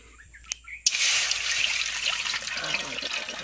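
Water poured from a container into a wok set over a campfire outdoors, a steady close splashing pour starting abruptly after a couple of faint knocks and running on continuously.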